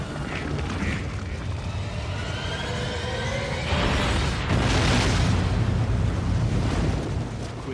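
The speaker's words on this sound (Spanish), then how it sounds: "Creando una megaerupción. Una explosión tan enorme que es inimaginable." A mega volcanic eruption explosion: a deep, continuous roaring rumble that swells and grows louder partway through, broad and booming like a sustained blast, with no talking.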